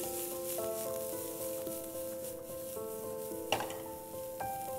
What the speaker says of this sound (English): Now we'll add carrots, capsicum and cabbage. We would toss them nicely.